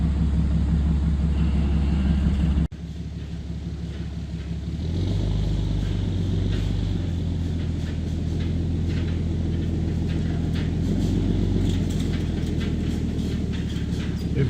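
A truck slowly reverses a trailer loaded with a shipping container about 300 feet into position on a property, its engine giving a steady, loud, low rumble that shifts after an abrupt break, with faint clatter over the drone.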